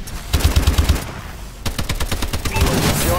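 Automatic weapon fire in the video game Call of Duty Advanced Warfare, loud rapid bursts of shots with a short lull partway through, then dense continuous firing and effects to the end.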